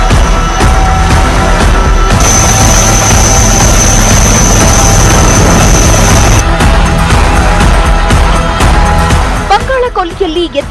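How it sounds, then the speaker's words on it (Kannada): A loud, steady helicopter engine drone during a rescue in Cyclone Asani fills the whole clip, with a high whine through the middle and a voice briefly heard near the end. "ಅವರನ್ನ ಹೆಲಿಕಾಪ್ಟರ್ ಬಳಸಿ ಕಾಪಾಡಲಾಗಿದೆ"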